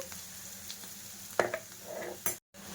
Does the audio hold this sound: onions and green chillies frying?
yes